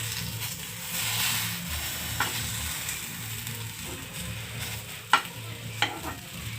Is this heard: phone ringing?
no